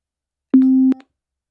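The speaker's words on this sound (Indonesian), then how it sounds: "Dan audio 1 ini memiliki nada yang rendah" A generated low-pitched steady tone sounds once for about half a second, clean and loud against silence, with a short faint tail as it stops.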